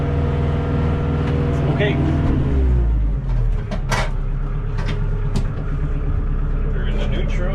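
A compact tractor engine rumbles steadily up close as it backs into position, with clunks and knocks of the machine over the drone and a brief spoken word.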